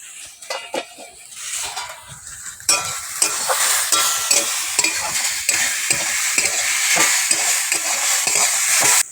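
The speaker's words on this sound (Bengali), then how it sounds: "এবার একটু ঢাকাটা খুলে নেড়ে দেব।" Vegetables frying in an uncovered pan, briefly stirred, then a louder, fuller sizzle under rhythmic scraping strokes of a utensil against the pan, close and busy.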